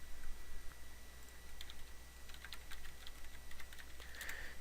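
Keys clatter on a computer keyboard as a command is typed into a server terminal, a quiet, uneven run of soft clicks over a steady electronic hum.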